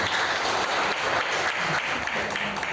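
A crowd applauds steadily throughout, a dense patter of clapping with no voices standing out.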